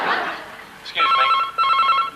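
A mobile phone rings in a school setting, its electronic ring tone sounding in two bursts separated by a short gap, fairly loud and near. A brief faint sound comes before it, and nobody speaks over the ringing.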